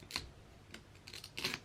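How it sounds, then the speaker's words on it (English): Clean-ish scissors snip through a plant stem to take a cutting for propagation: several short, crisp clicks and snips, close and fairly quiet, with no talk. "I'm going to take my scissors. They're clean-ish. We're going to cut down here."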